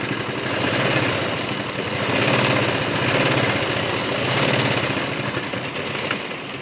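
Sewing machine running steadily as it stitches around the bottom hem of a salwar, a continuous whirring motor drone with slight surges, alone with no voices.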